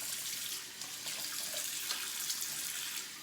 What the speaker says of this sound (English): Get hands washed here.